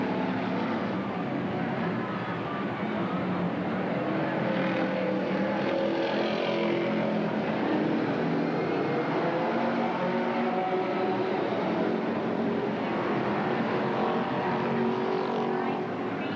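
Outlaw race cars roar around the Roseburg track in a 1987 race, with a continuous, loud engine drone that rises and falls as the cars pass. No clear speech.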